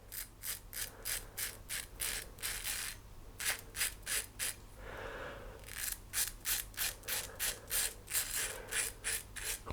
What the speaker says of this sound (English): So you can shave your face with it if you fancy something just a bit more aggressive.